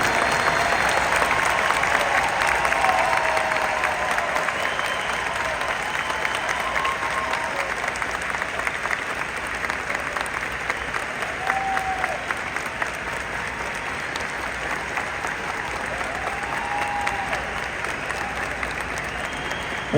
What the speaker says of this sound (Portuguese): se levantem e aplaudam todas as pessoas que estão aqui